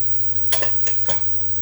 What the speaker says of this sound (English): now is also a good time I can throw in the little tomatoes